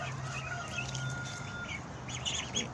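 Young ducklings in a nursery pen on a small mixed farm peep and chirp softly, with a low steady hum in the background and no voices.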